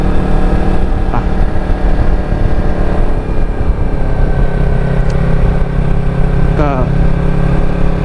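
A new Yamaha R3 with its 300 cc engine hums steadily while being ridden on a road trip toward Khao Yai. The engine note stays loud and even, with a few brief higher tones passing over it.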